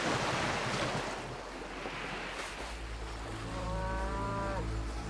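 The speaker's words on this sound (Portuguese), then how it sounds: "Ao redor deles, os rebanhos de Hélio, os gordos bezerros, vacas, ovelhas e cordeiros são resplandecentes" Cattle lowing near a shore, with a herd of cows and fat calves; one long, rising moo stands out late in the clip over a steady roar of surf and wind.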